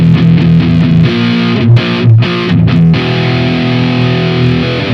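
Firefly FFMN electric guitar played through heavy distortion with the middle pickup selected, blending both pickups for a fuller, bassier tone; loud sustained chords with brief choppy breaks, no voices.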